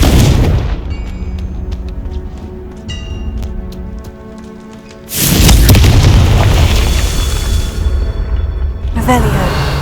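A Confringo blasting spell in the video game Hogwarts Legacy, with crackling magical tinkles giving way to a loud, heavy explosive boom that rumbles on as a sustained roar, followed by a second blast.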